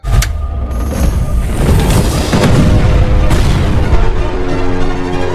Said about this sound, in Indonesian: Kompor pun meledak karena gasnya bocor.